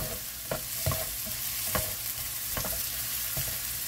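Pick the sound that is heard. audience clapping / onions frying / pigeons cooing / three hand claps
onions frying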